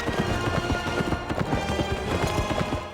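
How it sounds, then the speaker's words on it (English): Rapid, rhythmic hoofbeats of a horse galloping in the video game Kameo: Elements of Power, loud and close, steady clip-clop pattern throughout with no speech. "So let's just plow forward on our horse that came back from the dead after plummeting off a cliff."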